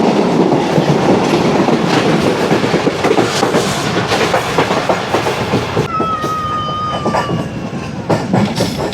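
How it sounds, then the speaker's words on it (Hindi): Karakoram Express rolling over the rails with a steady, loud clickety-clack of wheels close by, a continuous rumble throughout and a thin squeal rising from the wheels near the end. "ट्रेन हमारी रोड़ी शहर में एंट्री दे रही है।"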